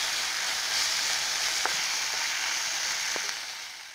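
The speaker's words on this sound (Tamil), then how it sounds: "இஞ்சி பூண்டு பேஸ்ட் சேர்த்துக்கிறோம் பச்சை வடை போகிற அளவுக்கு நல்லா வதக்கிடலாம்" Ginger garlic paste sizzles as it is sautéed with onions in a pan for a chicken puff masala, a soft steady frying hiss with a couple of light scrapes from stirring.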